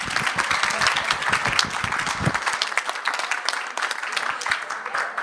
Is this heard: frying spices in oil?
no